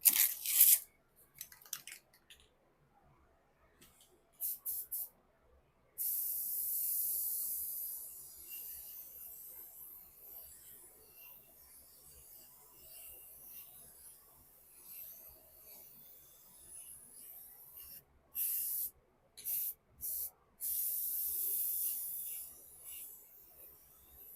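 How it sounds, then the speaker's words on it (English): Bursts of black aerosol spray paint hiss on and off, some short and some held for several seconds, with quiet gaps and faint handling noises between. "to be able to spray the back of these black"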